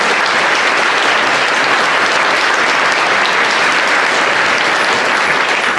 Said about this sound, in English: Can we give a round of applause for our culinary students?